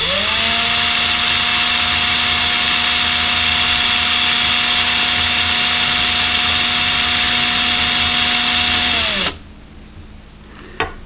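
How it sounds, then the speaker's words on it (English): A loud, steady high-pitched whine of a drill spinning a nail against a file, turning the nail head down to 3 mm for a Mossberg 715T/702 rifle, running continuously about nine seconds before cutting off abruptly. "I'm going to pull the drill trigger, and with the file, turn down the nail head"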